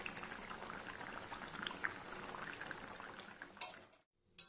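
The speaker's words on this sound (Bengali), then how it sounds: "আরও 7-8 মিনিট আমি এভাবে ফুটিয়ে নেব।" Katla fish curry with hill coriander bubbles steadily in a pan, making a soft continuous boiling patter that breaks off briefly near the end.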